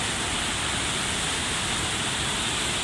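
Strong floodwater rushes continuously through Tugbok, Davao City, a dense, loud, unbroken roar of churning water with no pauses and no voices.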